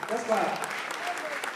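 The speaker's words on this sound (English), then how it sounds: "I better go clap for that great family that day." An audience claps at a Big Brother Naija 2018 eviction concert, a faint, steady patter of applause with a voice talking over it throughout.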